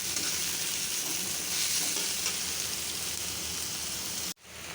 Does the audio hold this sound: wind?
no